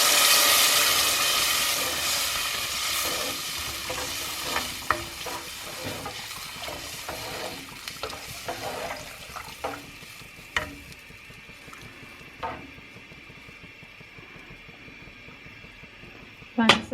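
Turmeric and other ingredients sauté in a pot for eggplant gheimeh stew, a steady broadband sizzle with scraping stirs that fades to faint hiss, with a few sharp utensil knocks near the end.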